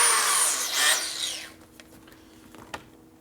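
A power drill with a 1/4-inch bit bores into a 1957 Harley panhead cylinder head: a loud whirring burst of about a second and a half, then quiet with small scattered clicks.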